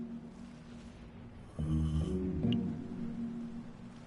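A Minecraft character snores in one slow, droning breath over a steady low background hum, fairly quiet and with no talk.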